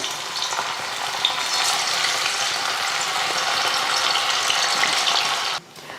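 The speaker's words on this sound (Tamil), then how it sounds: "நெத்திலி மீன் அரை மணி நேரம் நல்லா ஊறிடுச்சு இப்போ பொறிச்சு எடுத்துடலாம் எண்ணெயும் நல்லா காஞ்சிருச்சு பாருங்கள்" Anchovies that were marinated deep-fry in hot oil with a loud, steady, crackling sizzle that fills the clip, dropping off abruptly near the end.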